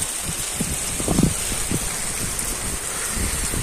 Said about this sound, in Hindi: मैं क्या कर सकता हूँ, बारिश बड़ी है।